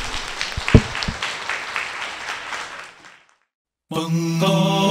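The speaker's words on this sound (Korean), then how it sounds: "이명현 박사님한테도 큰 박수 보내주세요." A lecture audience gives a round of applause that swells with a few loud claps, then thins and fades to silence before music begins abruptly.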